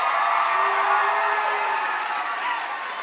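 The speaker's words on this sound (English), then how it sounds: "if you could, just give him a little round of applause" Crowd applause and cheering at a Steubenville Atlantic youth conference, a steady wash of clapping and cheers that holds fairly even and fades slightly toward the end, with voices mixed in.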